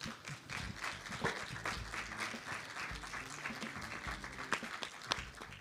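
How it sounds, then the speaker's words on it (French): A television studio audience applauds a guest as he arrives on a blues music show, a sustained, lively round of clapping with some low background rumble throughout. "Et vous pouvez l'applaudir."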